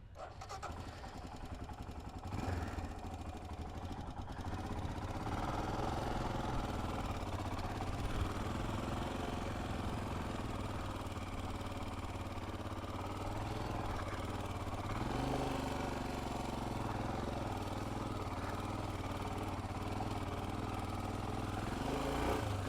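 A Royal Enfield Himalayan 411 motorcycle engine runs on sand, a steady loud rumble whose pitch rises and falls as the throttle is worked, continuous throughout.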